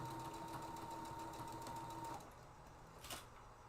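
A sewing machine stitching fabric in a home craft setting runs steadily at close range with a continuous whirring hum, then slows and quiets near the end, followed by a brief rustle.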